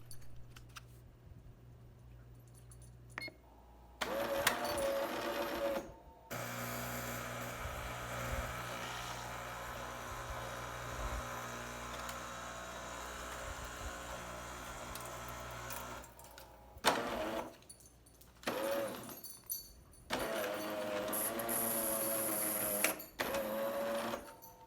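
A Jura Impressa coffee machine runs a rinse cycle, with a steady mechanical hum and pump whir broken by pauses, clicks and sputtering bursts at close range.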